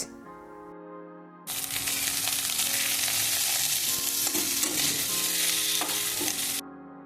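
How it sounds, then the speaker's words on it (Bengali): A large chopped onion with green chilli dropped into a hot pan bursts into loud, dense sizzling that holds steady for several seconds and then cuts off, over a faint background hum. "পেঁয়াজটা দিয়ে কিছুক্ষণ ভেজে নিয়ে"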